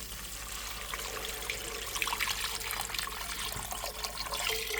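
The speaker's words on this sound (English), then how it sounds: "I'm only going to put 1 quart of broth in this one." Broth being poured into a soup pot, a steady liquid trickle and splash that runs unbroken at moderate level, with no talk over it.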